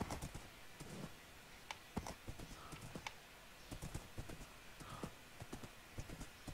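Horse hooves clip-clop in the Minecraft video game, an irregular series of sharp, close clops with a few faint clicks mixed in, and no clear speech over them.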